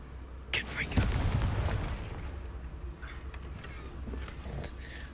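A Confringo fire spell blasts in Hogwarts Legacy, landing as a loud boom with a sharp crack, then rolling into a rumbling tail and a few fainter pops.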